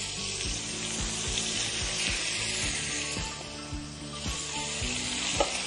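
Pork tenderloin, dusted in flour, searing in butter in a hot pan gives a steady loud sizzle with scattered crackles and stirring scrapes, no voices.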